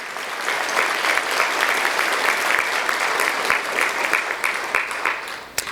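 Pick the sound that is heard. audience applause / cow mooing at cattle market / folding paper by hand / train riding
audience applause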